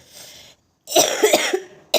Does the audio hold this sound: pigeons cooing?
no